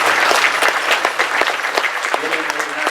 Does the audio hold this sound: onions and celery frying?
no